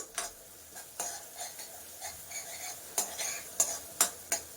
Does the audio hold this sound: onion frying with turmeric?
yes